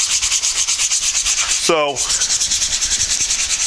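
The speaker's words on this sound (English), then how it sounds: "I'll go ahead and sand on this, and you can see how it stands up to sandpaper." Painted leather or vinyl furniture covering is sanded with sandpaper in steady, close, loud rhythmic scratching strokes, briefly interrupted by a single spoken word.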